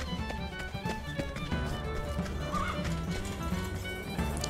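Horses in Octopath Traveler II, set in a Wild West–style town, neigh and whinny over steady clip-clopping hooves, layered with game music throughout.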